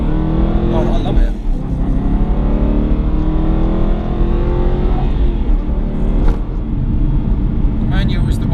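An Aston Martin DB9 with a manual gearbox, its engine holding a steady, close drone throughout while people talk over it.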